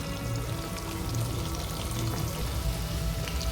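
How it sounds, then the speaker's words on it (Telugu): Chicken nuggets frying in hot oil, a steady close crackling sizzle with small pops, running unbroken and alone. "మంచిగా ఫ్రై అవుతున్నాయి"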